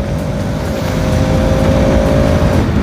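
Yamaha R15 V3 and Bajaj RS200 motorcycles racing through a twisty, corner-heavy stretch, a loud steady engine roar with a sustained high whine, close and continuous throughout with wind rush.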